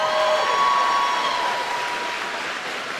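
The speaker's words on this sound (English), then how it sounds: "so I should pause for some applause" Steady applause fills the room at the Center Moriches High School 2025 graduation ceremony, a dense wash of many hands clapping, fairly loud and sustained, fading slightly toward the end with no talk over it.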